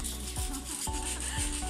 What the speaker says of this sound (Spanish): el corte pues genera un tipo vidrioso el aluminio, por lo tanto pues ya se procedía a lijar